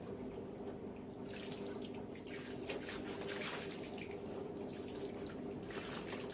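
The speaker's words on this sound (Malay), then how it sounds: "Letak air, siram air sikit." Water sprinkled by hand onto worm breeding bedding, a steady soft splashing and trickling wash that runs continuously throughout at moderate level, with no talking.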